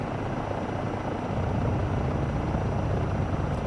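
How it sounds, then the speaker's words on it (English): Helicopter in Microsoft Flight Simulator 2024 flying with steady, loud rotor thrum and engine whine, a continuous close drone without talk. "I can't think of another helicopter where I've had to keep this much anti-torque in."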